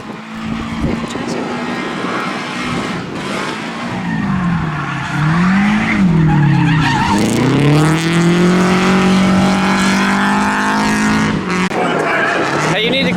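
A Miata with stock steering angle drifts, its tires squealing in long, loud, wavering wails over a revving engine, with people talking nearby.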